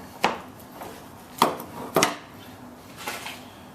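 A knife chops through the tough hook bone of a flounder on a cutting board, with four sharp, close knocks: two spaced apart, then a quick pair, and a fainter tap near the end.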